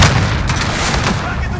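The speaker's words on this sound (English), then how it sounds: "Throwing grenade!" Grenade blast in the Warzone video game, a dense, loud burst of low rumbling gunfire-like noise filling the whole moment, with no clear separate impacts.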